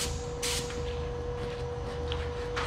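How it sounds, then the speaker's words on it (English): Short hissing bursts from a spray gun applying Alumaclear coating to a trailer, over a steady background hum with a faint high tone. "Here he's spraying the Alumaclear"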